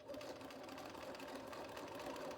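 A sewing machine stitching a folded hem runs continuously with a fast, even mechanical whir and rattle, close and steady throughout.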